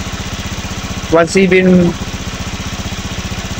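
A second-generation Honda Zoomer-X scooter with a weak idle, its small engine ticking over in a steady, rapid, even pulse close by while someone briefly speaks over it partway through.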